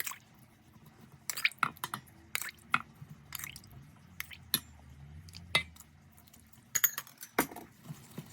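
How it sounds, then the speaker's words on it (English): Raw meat squished around by hand in a wet biltong marinade, giving irregular close wet squelches and drips with short quiet gaps between them. "give it all a smush around and get it coated in the liquid"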